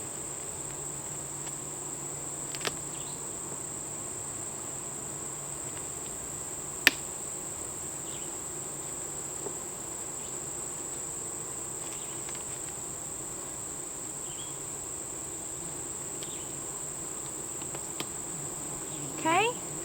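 Bees buzz throughout a beehive inspection, a faint, even drone that holds steady for the full stretch, marked by a few light clicks and taps and one soft knock near the end.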